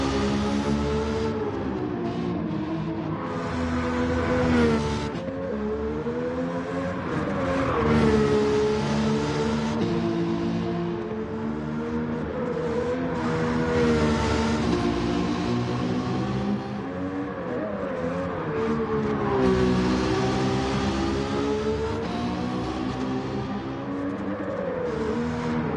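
A Nissan Skyline R34 GT-R V-Spec II Nür '02 runs a time trial lap in Gran Turismo 7, its engine droning steadily loud the whole time and rising and falling in pitch with each gear change and corner.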